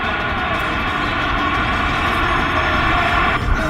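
Kent Pietsch's airshow plane at the 2019 Joint Base Andrews Air Show coming in to land, a steady, loud engine drone that holds level throughout and rises slightly near the end.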